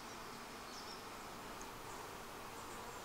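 Honeybees massed around a Flow Hive during harvest, a dense, steady buzzing drone that holds without a break, close and fairly loud, with a few individual bees whining past.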